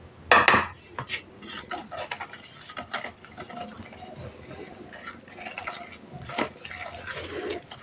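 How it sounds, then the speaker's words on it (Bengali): A whisk stirs thick Christmas fruit cake batter in a bowl, giving a sharp clatter at the start and then soft, uneven scraping and knocking against the bowl that continue throughout. "একটা হুইস্ক দিয়ে আস্তে আস্তে মিক্স করে নেব।"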